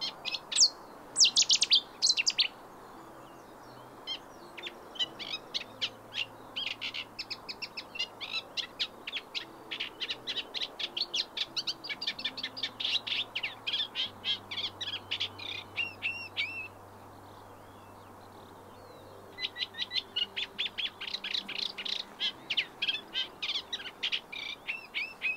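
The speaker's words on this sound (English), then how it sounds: "we came across this reed warbler who was really quite vocal." A reed warbler sings at Keyheaven Marshes, its rapid chattering, scratchy phrases repeating in long bursts with short pauses, fairly close and clear over a quiet background with a faint low hum.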